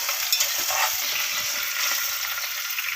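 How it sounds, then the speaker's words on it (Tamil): Onions sprinkled with salt sauté in a pan, giving a steady hissing sizzle up close with low, intermittent scraping and stirring beneath it. "உப்பு போட்டு நல்லா வதக்கி விட்டுடலாம்"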